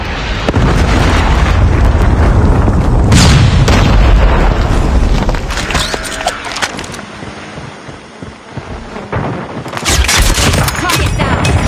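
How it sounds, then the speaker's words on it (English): Explosions and rapid gunfire from a Predator missile strike in a Call of Duty Mobile ranked multiplayer match, loud and sustained booms with dense crackling bursts throughout, with a brief lull midway before the blasts return. "Friendly Predator missile inbound."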